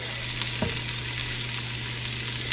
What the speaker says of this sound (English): So I've got some oil heating up. Okay, so I'm going to saute the onion.